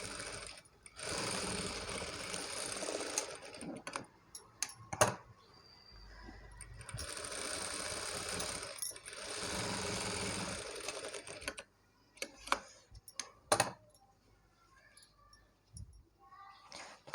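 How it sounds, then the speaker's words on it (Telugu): A sewing machine stitches net fabric for a blouse neck, running in long steady bursts with pauses and small clicks between runs, close and fairly loud with no talk over it. "కటింగ్ లేకుండా స్టిచ్ చేస్తున్నానండి, ఇది నెట్ ఫ్యాబ్రిక్ కదా"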